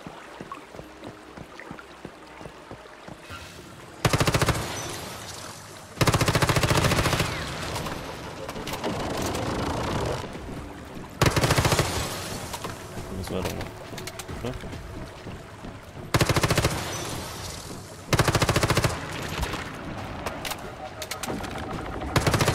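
Bursts of automatic gunfire in the survival shooter Once Human, loud volleys repeating every few seconds over continuous game ambience, with a voice talking between shots.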